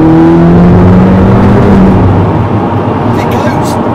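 Audi S3 hatchback accelerating hard as the driver floors it, a loud steady engine roar with rising tonal harmonics, heard from inside the car close and continuous.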